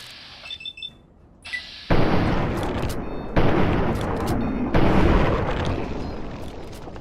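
Loud explosions and gunfire bursts in Fallout 3 follow a quiet, chirpy lead-in, with three sharp blasts at intervals and sustained rumbling after each.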